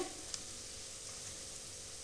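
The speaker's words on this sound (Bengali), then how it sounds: "এই মিষ্টিগুলো যখন তেলে দেবেন তখন গ্যাসের দমটা যেন বাড়ানো থাকে" Chira (flattened rice) sweets frying in hot oil over high gas flame, giving a steady soft sizzle and crackle with one small pop near the start.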